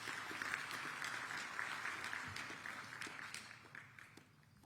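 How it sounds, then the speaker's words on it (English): Audience applause at a formal diplomatic gathering in Addis Ababa, steady clapping from a crowd that gradually thins and tapers off near the end. "Please, a round of applause."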